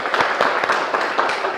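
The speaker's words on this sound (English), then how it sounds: "Can we welcome Dr. Jage with a clap?" An audience claps to welcome a doctor at a health talk, a brief burst of dense, fairly close applause from a small crowd.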